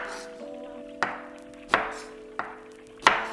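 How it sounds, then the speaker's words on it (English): A knife tops and tails a yellow onion on a cutting board, four sharp chops at an uneven, unhurried pace, close by with quiet kitchen hum between strikes. "Okay, now go ahead and top and tail your onions."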